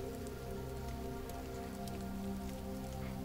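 Steady rain falls in a historical drama scene, a continuous soft patter of drops on surfaces at low level, with a faint tonal background underneath and no talking.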